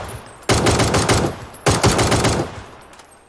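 Automatic gunfire in the video game PUBG, two loud bursts of rapid shots about a second apart, each ringing out with a reverberant tail.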